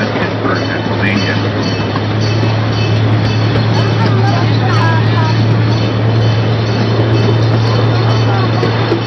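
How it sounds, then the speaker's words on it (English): The CP1 amusement park train runs on the Lake Winnepesaukah Railroad with a steady, loud rumble and a constant low drone, its wheels clattering on the track throughout. "One of 2 trains that operate on the Lake Winnepesaukah Railroad."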